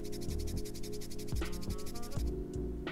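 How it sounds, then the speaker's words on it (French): A coin is rubbed quickly against the skin of an elbow, a close, soft rhythmic scraping that repeats in quick strokes over a faint steady tone. "si je frotte la pièce sur mon coude normalement et que je vais un petit peu vite"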